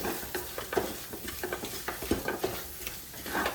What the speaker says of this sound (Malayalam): അതേപോലെ നല്ലതുപോലെ തന്നെ ഇളക്കി കൊടുക്കണം